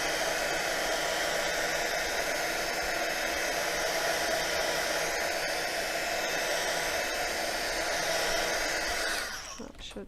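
A heat tool blows continuously over a 6x4 craft card with fairly loud, even whooshing air close by, then cuts off just before the end.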